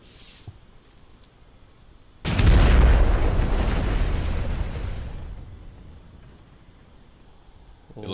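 After a quiet stretch with faint birdsong, a TNT rocket goes off in a sudden, heavy boom, and the blast roars and rumbles for several seconds before dying away into quiet.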